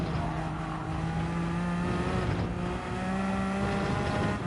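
A hypercar engine in Gran Turismo 7 roars steadily at high revs, its pitch rising and dipping with gear changes, a continuous loud drone with no talking.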